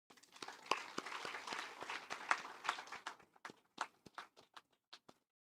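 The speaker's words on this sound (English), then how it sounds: "let us clap for him" Audience clapping at an endowment lecture and felicitation, a burst of applause that thins into a few sparse, separate claps before stopping, fairly faint.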